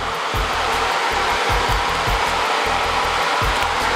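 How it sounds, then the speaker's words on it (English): A hair dryer fitted with a diffuser blows steadily while drying curly hair, a loud, even whooshing roar with a faint motor hum, continuous and close with no talking. "Just kind of letting the diffuser sit at the curls and dry them, not blowing it around."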